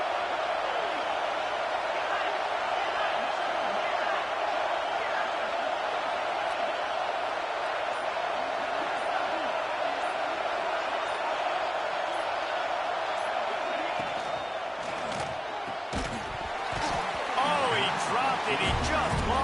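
Steady roar of a stadium crowd in a Madden NFL football game on a fourth-down play, a constant broadband wash through the whole stretch, with a swell of louder cheering and scattered sharp hits near the end, under commentator talk.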